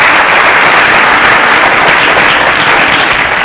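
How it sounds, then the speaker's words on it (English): Loud, steady applause from a studio audience at a televised student science quiz show, dense and continuous throughout with no voices standing out. "round of applause for Chiwike"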